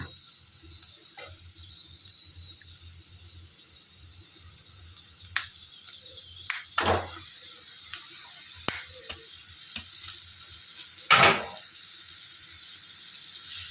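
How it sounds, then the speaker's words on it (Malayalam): Pasta stirred into a masala in a pan, with a faint background sizzle broken by scattered sharp scrapes and clinks of a spoon against the pan, louder knocks clustering around the middle and near the end. "ആ പാസ്ത ഇട്ട് കൊടുത്തിട്ട് നന്നായി ഇളക്കി കൊടുക്കണേ"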